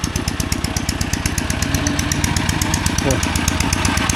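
A small single-cylinder two-wheel walking tractor engine chugs loudly and steadily at close range, its rapid regular pulses continuing throughout with no pauses.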